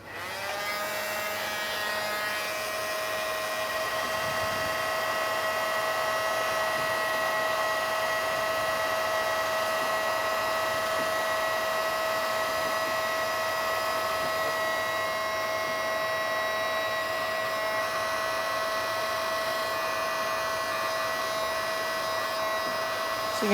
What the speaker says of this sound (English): to get this old double-sided tape off, I'm going to use a heat gun